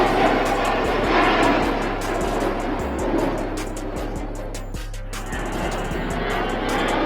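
A Su-35 fighter jet heard as a steady, loud roaring engine drone that fills the whole stretch with a constant low hum beneath it.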